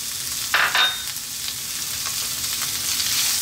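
Chopped onion hits a hot pan with a sharp burst of sizzle, then settles into a steady, fairly loud frying hiss. Nobody speaks.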